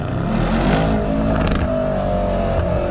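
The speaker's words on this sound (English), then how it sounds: "Ooh, this is a very engaging engine." Mercedes-AMG E63 S wagon engine pulls hard under acceleration, a loud, continuous rising roar heard from inside the car with no pauses.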